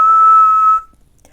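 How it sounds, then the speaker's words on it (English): A bird's single sustained, steady whistled greeting call rings out loud and clear for under a second from a kitchen window ledge, then stops into near silence. "She perched on the window ledge of the kitchen and whistled her greeting call."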